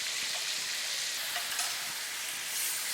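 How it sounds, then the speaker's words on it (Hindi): Chicken chow mein vegetables with tomato, green chillies, salt and crushed red chilli sizzle steadily in a hot pan while being stirred, a continuous hissing fry with soft scraping touches and no talk. "अच्छी तरह से मिक्स करेंगे।"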